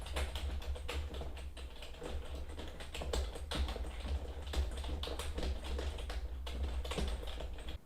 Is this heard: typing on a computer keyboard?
yes